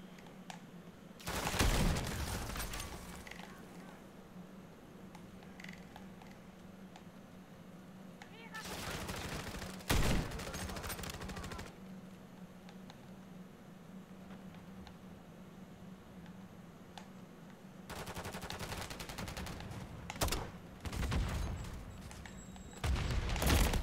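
Automatic gunfire in Call of Duty: Modern Warfare III, several loud bursts of rapid shots separated by quieter stretches of low background hum, with a voice speaking faintly in between.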